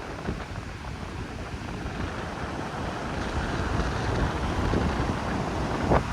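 Steady wind buffets the microphone on Patong Beach in Phuket after typhoon rain, a continuous rushing roar with faint surf beneath and no talking.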